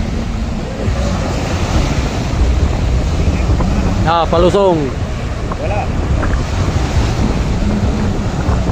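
Large waves and strong wind at sea during a bancarera boat race, a steady loud roar with wind buffeting the microphone, while voices call out briefly near the middle.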